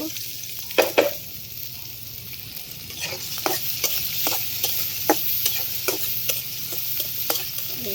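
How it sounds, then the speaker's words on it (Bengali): Onion and green chili frying in hot oil, a steady sizzle with repeated clicks and scrapes of a spatula stirring the pan, close and clear with no talking. "ভাজি করার জন্য তেল দিয়ে দিব, পেঁয়াজ কাঁচামরিচ দিয়ে দিব"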